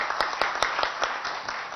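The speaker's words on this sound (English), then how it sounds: "A big round of applause for him." Conference audience clapping at a business event in Hyderabad, a steady patter of many hands with sharper individual claps standing out, moderately loud and continuing throughout without speech.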